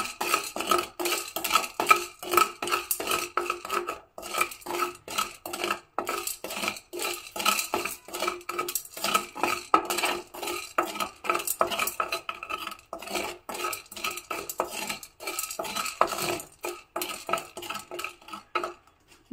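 Grains stir-roasted in a pan on a gas stove, with dense continuous scraping and rattling of a spatula against metal and kernels shifting, steady and close, no voices.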